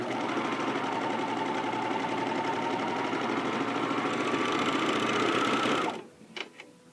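A JUKI MO-2000QVP serger stitches fabric at a steady high-speed whir for about six seconds, then stops abruptly, leaving a couple of brief clicks and handling sounds.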